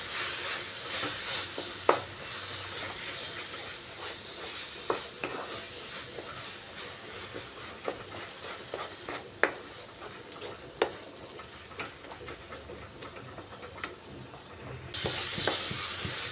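Spiced masala of onion and tomato with ground coriander and red chilli powder fries steadily in a pan, a constant sizzle broken by repeated spatula scrapes and clacks, and no voices.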